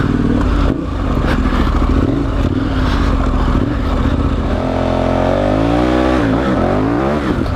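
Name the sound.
motorcycle riding through a sand wash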